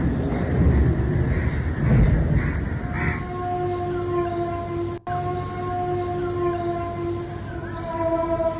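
Sirens wailing across Lahore after drone explosions near the airport, a steady tone sounding from a distance under crows cawing and general outdoor noise, with a brief dropout midway.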